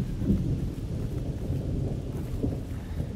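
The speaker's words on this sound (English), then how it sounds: "And back to Thunderstorm." Thunder rumbles low and steady under falling rain during a thunderstorm in the horror video game The Evil Within, a continuous dark, muffled roar with no voices over it.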